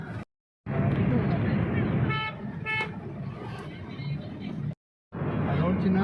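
Busy road traffic on a highway near Nagpur, with car horns honking in short repeated toots over a steady close engine and road roar, broken by brief gaps.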